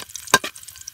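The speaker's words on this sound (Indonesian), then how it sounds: "ngayon magigisa na tayo. Lalagyan muna natin ng bawang" Garlic sautéing in a pan outdoors, with a soft sizzle broken by two quick scraping stirs of a utensil close by.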